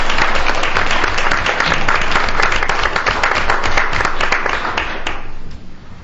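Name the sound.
round of applause for a retiree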